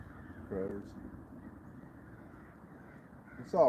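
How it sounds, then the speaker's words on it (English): Crows cawing outdoors on a winter morning by a trout-fishing spot, two short harsh calls at the start and end, faint and somewhat distant, over low background rumble. "Crows."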